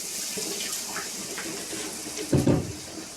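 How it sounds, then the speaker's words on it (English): Water pours into a cooking pan while vegetables are being prepared, a steady soft splashing hiss that swells into a brief louder gush near the end, with no talking over it. "And put in a little water, right?"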